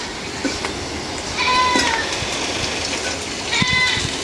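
A goat bleats in a rural kitchen yard, a couple of wavering calls at moderate distance over a steady background of frying and ambient noise.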